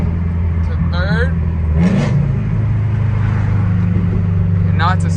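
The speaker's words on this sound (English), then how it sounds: "Alright, we're gonna drop to third gear right now." A Subaru STI with a catless downpipe and aftermarket exhaust, its engine droning loudly and steadily, with a quick rev blip on a downshift partway through; someone talks over it.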